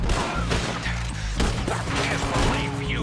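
Gunshots in Red Dead Redemption 2 during a shootout, loud cracks over a busy, dense game soundscape.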